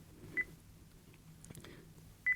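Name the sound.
Sony TX650 camera menu beep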